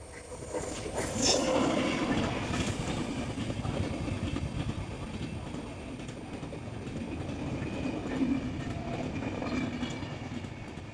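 A train rumbles steadily along the tracks with a continuous rolling roar and faint rattling, heard outdoors without talk.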